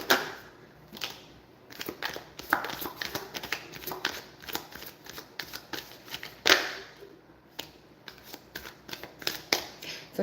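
Tarot cards are shuffled and drawn, producing close, irregular bursts of crisp riffling snaps and slaps with short gaps between them.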